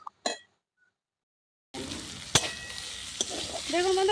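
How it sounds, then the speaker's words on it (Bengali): Chicken frying in a pan on a clay stove, a steady sizzle starting after a short quiet gap, with a few sharp clinks of a utensil against the pan. "চিকেনটা কি সুন্দর ভাজা হয়ে গেছে"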